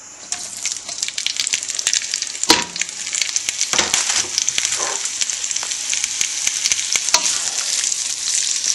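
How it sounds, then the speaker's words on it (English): Precooked ham and sausage brown in a wok for Cajun jambalaya, giving a loud, continuous frying sizzle with crackles and occasional scrapes from stirring, close up and without talk. "First thing I'm going to do is brown the meat a little bit."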